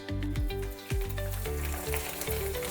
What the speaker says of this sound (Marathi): हे पापड तळताना थोडी कढई मोठीच घ्यायची